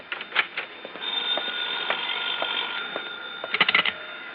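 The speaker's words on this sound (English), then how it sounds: "That's my phone." A telephone bell rings in a radio drama, with short repeated bursts of ringing near the start and again near the end, over a faint steady background hum.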